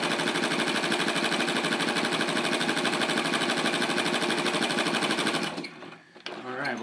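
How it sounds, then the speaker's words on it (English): A sewing machine stitching at high speed, a rapid, even mechanical rattle running loud and close for several seconds before stopping abruptly, followed by a brief quiet handling sound. "Dropping it down and sewing."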